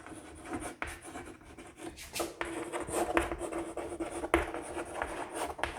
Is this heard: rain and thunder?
no